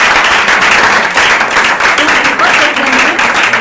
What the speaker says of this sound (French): Alors, applaudissez-le.